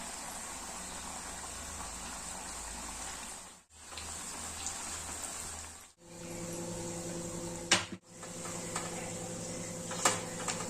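Wheat flour shankarpali, a Diwali sweet snack, frying in hot oil with a steady close sizzle, briefly interrupted by short gaps and a few sharp clinks of a utensil against the pan, with no talk.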